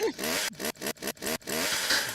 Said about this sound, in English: I'm getting away from the chainsaw